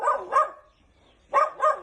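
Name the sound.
dog barking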